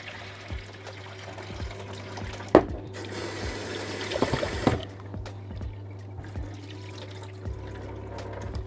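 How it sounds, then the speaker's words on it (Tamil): Water splashes and sloshes as rice and lentils are swished and rinsed together in a bowl, with a steady low hum in the background and occasional clinks. "குயிக்காக ஒரு 2 தண்ணியில் அரிசியையும் பருப்பையும் சேர்த்து பிணைஞ்சு கழுவணும்."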